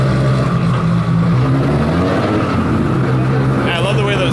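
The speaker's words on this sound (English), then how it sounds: "I love the way those gears sound, it's so good." Loud, close engine roar of a 1000 hp turbocharged BMW E30 held steady, a throaty mechanical drone with slight shifts in pitch as it pulls in gear.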